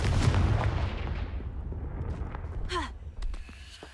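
A Confringo fire spell bursting in Hogwarts Legacy gives a loud, rumbling blast that fills the first seconds and slowly decays, followed by crackling fiery whooshes and a rising magical streak near the end.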